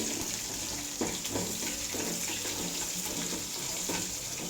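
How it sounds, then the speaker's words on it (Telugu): Chopped onions and garlic sizzle in hot oil for Telugu gongura pappu, a steady, dense hiss of frying that stays close and even throughout, with no talking. "నూనె బాగా వేడిగా ఉంది కదా, అందుకు అవి బాగా వెంటనే ఫ్రై అయిపోతున్నాయి."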